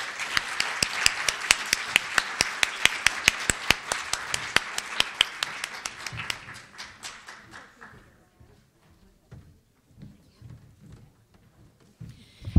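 An audience at a conference plenary session applauds its panelists. Dense, brisk clapping fills the first several seconds, then thins out and fades into a few scattered claps and room noise.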